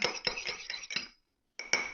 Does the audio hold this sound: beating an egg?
yes